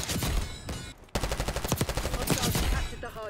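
C9 submachine gun fire in Black Ops 6 multiplayer, dense rapid automatic bursts with a short gap near one second, loud and close, then steady continuous firing to the end.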